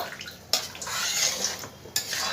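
Spoon scrapes and clinks against a pan while fish is stirred into mung and masoor dal, with two sharp metallic knocks over a soft, wet stirring hiss, close and fairly quiet.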